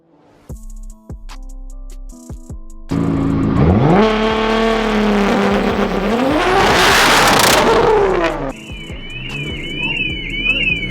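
A 2000 HP Nissan GT-R runs a launch control test on a dyno: idle, then a loud sustained roar as revs climb and hold, then a sharp drop back to a lighter engine sound with a high whine.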